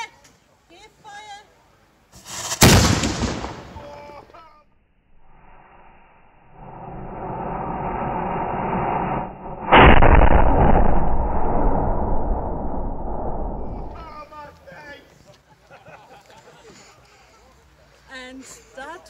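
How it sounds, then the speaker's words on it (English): A 17th-century cannon fires with one loud, sharp blast and a long rumbling tail, preceded by a shouted command and followed by a second heavy boom-like roar; voices speak before and after. "Have a care! Give fire!"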